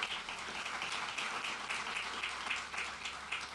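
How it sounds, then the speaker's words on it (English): An audience applauds at a NASA event unveiling a crew lunar vehicle, a steady, moderately distant wash of many hands clapping that holds throughout. "give him a round of applause"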